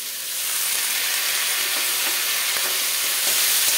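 Malabar spinach (pui shak) dropped into a hot pan of oil spiced with cumin powder and green chilli, for a dish with hilsa fish head: a loud, steady close-up sizzle and crackle of frying with steady hiss throughout.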